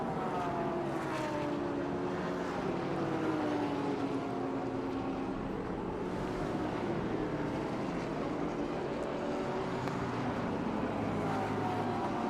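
GT race cars barrel past at speed on the Suzuka circuit during a GT World Challenge Asia race, engines a continuous, dense roar with rising and falling pitch sweeps as several cars pass one after another.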